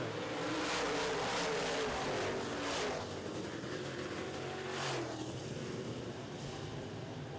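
Modified race cars roar around an oval track at night, engines whining loud and close as several cars sweep past in quick succession, then settle into a steadier distant drone.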